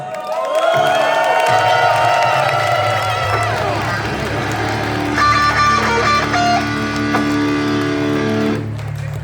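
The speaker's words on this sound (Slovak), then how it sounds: "jeden obrovský aplauz pre našich bratov bez sna" A concert crowd cheering and applauding loudly for a band at Zrkadlový háj in Bratislava, with whoops and shouts swelling and holding over sustained ringing music tones for several seconds.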